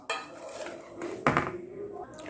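Eggless butterscotch cake batter is mixed in a bowl, with a utensil making a few close clinks and scrapes against the bowl over a quiet background.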